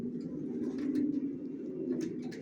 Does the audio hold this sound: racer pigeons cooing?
yes